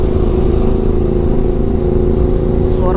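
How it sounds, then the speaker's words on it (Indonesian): A motorcycle fitted with a CS Pro aftermarket exhaust runs close by, giving a loud, deep, bassy drone that stays steady with small rises in revs throughout. "knalpot CS Pro ini emang enak banget dibawa buat santai ya. Suaranya tuh menggemanya merdu guys"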